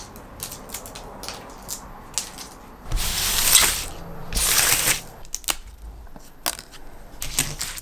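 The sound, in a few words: scraping and peeling flaking paint in an attic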